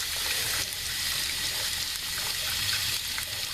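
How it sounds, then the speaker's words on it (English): Water flushes steadily out of the radiator of a 1973 Plymouth Valiant during a cooling system flush, a constant close gushing hiss that runs without pause and with no talking. "we're just flushing the radiator"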